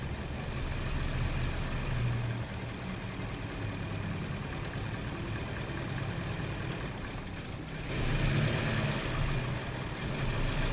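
A Toyota Yaris engine idles steadily in a workshop during servicing, after a suspected misfire on cylinders one and four, giving a continuous close mechanical hum that swells slightly toward the end, with no talking.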